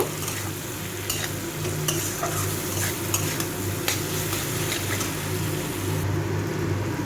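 A spoon stirs a spice mixture of red chili powder and cumin powder in a hot pan while tyangra fish is cooked. Repeated scraping clicks ride over a steady low sizzle, close and moderately loud, with no voices.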